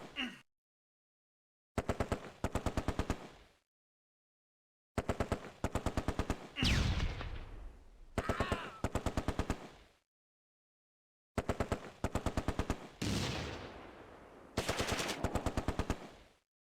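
MG42 machine gun fire in the WWII game Close Combat: A Bridge Too Far, set in Operation Market Garden at Driel: repeated loud, rapid bursts separated by silences, with explosive blasts and rumbling debris between some bursts.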